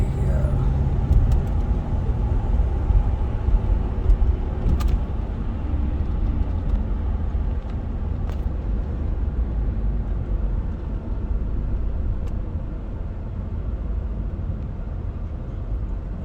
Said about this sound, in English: But you can see the gear changes here.